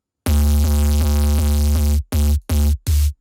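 A buzzy sine wave synth tone with diode distortion holds for about two seconds, then three short bursts of the same gritty note follow, loud and alone.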